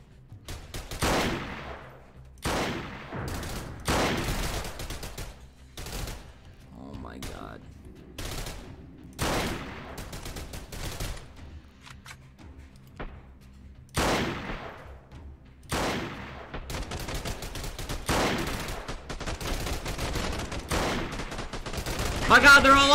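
Repeated loud volleys of gunfire in the video game Freeman: Guerrilla Warfare, sharp shots and rapid bursts recurring every few seconds throughout, with faint speech in places.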